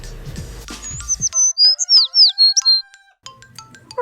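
A small yellow bird gives a burst of bright, loud chirps and whistled notes close by, following a brief musical jingle and then a few fainter tweets.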